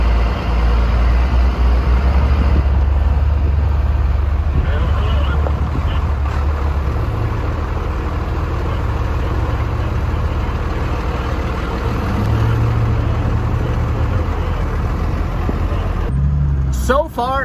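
A two-wheel-drive Chevrolet Suburban drives off-road through rough desert terrain, its engine a steady low rumble throughout with wind and cabin noise, while a person talks over it.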